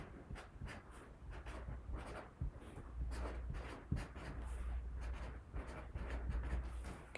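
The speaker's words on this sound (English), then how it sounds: "first we're going to put our name on our paper" Pencil or pen scratching on a paper worksheet as a name is written, quiet close strokes in short uneven bursts over a soft background hum.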